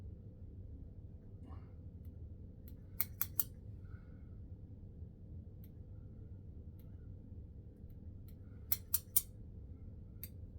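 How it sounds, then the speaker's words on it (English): Small grooming scissors trim eyebrows in a few quick bursts of two or three crisp snips, close and clear, over a steady low room hum with long quiet gaps between. "I literally have to trim my eyebrows sometimes twice a week."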